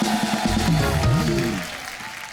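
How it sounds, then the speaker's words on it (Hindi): Studio audience at a comedy talk show clapping to welcome a playback singer, a loud dense wash of applause under music with a sung or sustained tonal line over it, fading slightly near the end. "जोरदार तालियां एक बार।"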